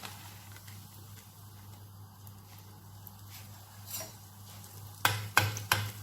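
Donut dough frying in hot oil gives a soft, steady sizzle throughout, growing into louder crackling bursts near the end, with no talking.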